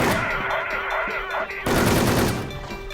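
Explosions in the Wolfteam online shooter, a dense burst of blasts with rapid gunfire-like crackle running throughout, loud and continuous, with a heavier surge of blasts partway through.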